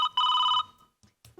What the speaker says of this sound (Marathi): कोण मामांजीचा फोन आला